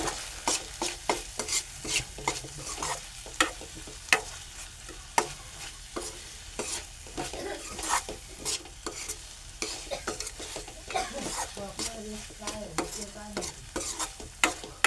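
Stuffed ridge gourd with ground masala paste sizzles in a pan while a spatula stirs and scrapes in quick, repeated strokes, close and clear with no talking.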